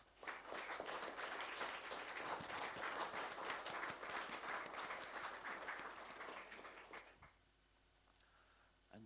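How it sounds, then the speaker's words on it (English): Applause from attendees at an annual town council mayor-making ceremony, honouring the outgoing mayor: a dense, sustained round of clapping for about seven seconds, then a sudden drop to quiet room tone. "I ask that everyone here gives her a big round of applause."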